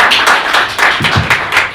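Audience clapping at a Seoul education superintendent candidates' debate, a short burst of several distinct, fairly close claps in an uneven rhythm, with no talk over it.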